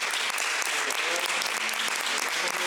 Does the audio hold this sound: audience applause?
yes